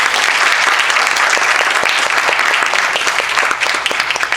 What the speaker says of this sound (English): I would say you give an applause for NADAP for arranging that